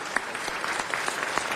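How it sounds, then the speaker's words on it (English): Brief, steady applause fills the John Ferraro Chambers at a Los Angeles city council meeting, many hands clapping together in a continuous patter. "let's give them all a round of applause and a welcome to the John Ferraro Chambers"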